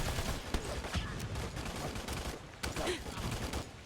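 Oscar Mike firing in Battleborn: a steady stream of faint, rapid gunshots in close succession, with quick sharp cracks punctuating the run and talk underneath.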